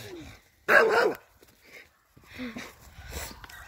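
A dog gives one loud, close bark-like burst, followed by quieter scattered sounds and some talking.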